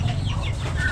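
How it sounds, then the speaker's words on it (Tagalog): Chickens at a Filipino market stall cluck and murmur in a brief burst, several birds close by over a low background hum, with no talk over them. "sobrang dami ng manok"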